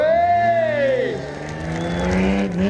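A drag car accelerates at the Drag Power Show in Chambley, its loud engine note sweeping up in pitch as it gathers speed, then settling into a sustained roar.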